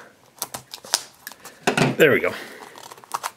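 Scissors snip and crinkle through plastic Shopkins blind bag packaging in a series of short close cuts and rustles, with a person speaking briefly partway through.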